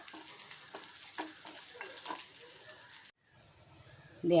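Drumstick leaves sautéing in a pan for chammanthi, a soft continuous sizzle with light scraping stirs, then a brief pause and a louder clatter at the end.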